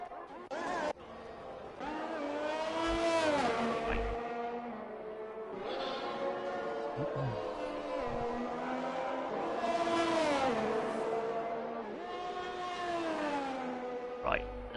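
A race car on a fast lap on medium tyres at a Saudi Arabia GP3 round in a racing game. Its engine climbs in pitch through repeated upshifts, dips as it brakes and downshifts, then revs up again, loud and close.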